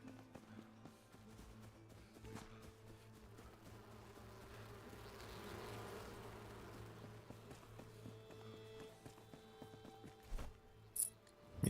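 Bees buzz in the survival game Enshrouded, a faint, steady insect drone that swells gently around the middle, with a few soft taps and clicks near the end and no talk.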